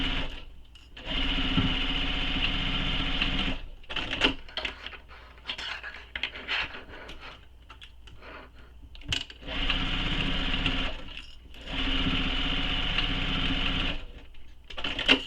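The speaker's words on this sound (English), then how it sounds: "And now we're going to stitch this." Sewing machine stitching the seams of a fabric bag, running in several steady bursts of whirring separated by short pauses, close and clear.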